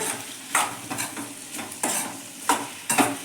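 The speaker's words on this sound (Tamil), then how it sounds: "இப்போ வந்து நம்ம கருவாடை போட்டுடலாம்." Dried fish goes into a frying pan: a steady close sizzle with about five sharp scraping stirs at irregular intervals, no voices.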